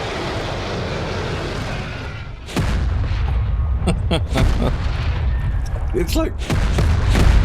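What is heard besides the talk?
homing missile explosions in ARK video game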